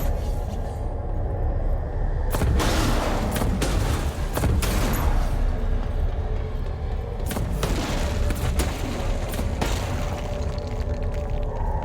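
Grenades explode during a boss fight in the game Control, heavy booms landing several times over a loud, constant rumble of combat noise and scattered gunfire, with no talking.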